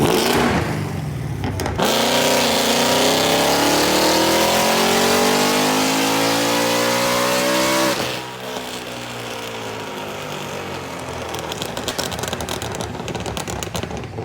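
A supercharged 2018 Mustang GT with an H-pipe exhaust roars loud and close, revving steadily higher for several seconds before dropping back to a rough, heavy idle burble.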